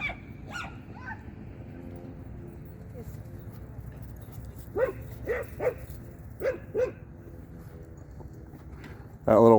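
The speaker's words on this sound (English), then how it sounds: "That little white one was growling a lot" Dogs at a Spanish Fork dog park, including a Caucasian Ovcharka, let out a few short barks at a moderate distance, with faint low growling and people talking nearby.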